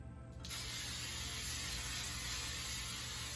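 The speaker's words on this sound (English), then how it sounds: "I like to use my hairspray from the top of my head" A steady, close hiss of hairspray from an aerosol can starts abruptly and runs continuously for about three seconds, loud and broadband with no pauses and no talking.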